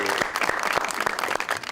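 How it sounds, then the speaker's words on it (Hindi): Brief burst of studio audience applause on a TV talk show welcoming a guest, dense clapping throughout, with no voices over it. "प्लीज आपकी भरपूर तालियों में निशो जी।"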